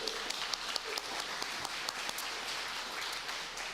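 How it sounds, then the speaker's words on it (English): Conference audience at an AI and humanity event in a large hall giving a round of applause, a moderate continuous wash of clapping with scattered sharper claps, fairly distant and even. "Please give him a round of applause as well."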